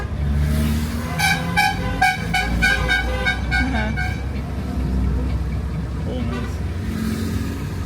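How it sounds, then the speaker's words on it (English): A procession of cars passing by at a lakeside camping area, with engines rumbling close and several melodic horn toots repeating in the first half, while people talk over the traffic. "Let's enjoy the parade of all cars."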